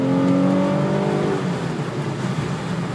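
A 2005 Infiniti G35X with about 103,000 miles accelerates hard on a test drive, its engine note climbing and then blending into loud, steady road and engine roar.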